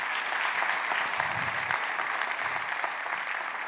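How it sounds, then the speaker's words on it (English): An audience at a Hague Talks event on climate action gives a sustained, even round of applause with dense clapping throughout and no speech over it. "Maybe once more have a big round of applause, everyone, to Tim Kliphuis."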